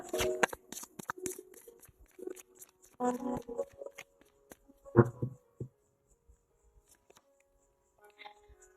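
Tarot cards are shuffled and drawn close by, with quick riffling bursts, soft slides and taps of cards laid down, fading to quiet handling toward the end.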